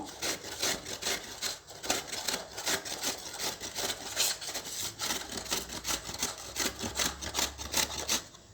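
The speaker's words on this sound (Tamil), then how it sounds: "இப்போ வாஷ் பண்ணிவிட்டு நம்ம துருவி எடுத்துக்குவோம்." Tapioca root being grated by hand on a grater, a continuous rasping scrape in quick repeated strokes, close and moderately loud, with no talking.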